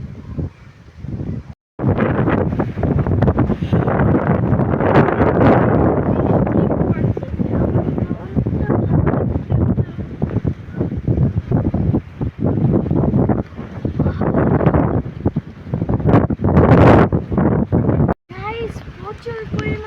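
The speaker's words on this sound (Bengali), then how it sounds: "প্রচুর পরিমাণে বাতাস, কথায় আওয়াজই শোনা যায়" Strong wind buffets the microphone in an open village, a loud continuous roaring rush with gusty swells, and it cuts out briefly twice.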